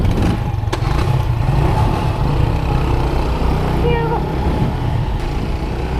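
Motorbikes pulling away and riding together, a steady low engine drone with rising revs, loud and close throughout, with faint wind and road noise mixed in.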